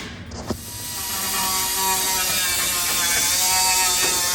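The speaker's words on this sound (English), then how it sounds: "He's grinding spots where the spot welds." A power grinder cuts out spot welds on the rocker panel of a 1997 GMC truck during restoration. A brief knock comes first, then a steady, loud, high-pitched grinding whine holds close up for several seconds.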